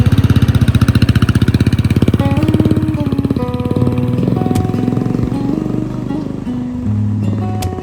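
A motorcycle climbs a rough off-road trail to Shikhar Baas near Dharan, its close engine pulsing and labouring with changing revs, loud and continuous throughout.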